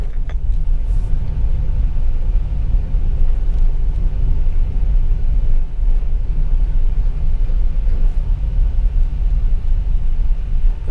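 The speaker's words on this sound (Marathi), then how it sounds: "आज गाड्या जरा आहेत रस्त्यावर" Heavy traffic on the Mumbai–Goa highway NH66 near Bavnadi, Sangmeshwar, rumbles loud and constant with a deep low engine drone, vehicles passing close without pause.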